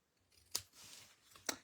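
Scissors trim a paper banner in two crisp snips about a second apart, close and quiet, each cut followed by a soft rustle of paper.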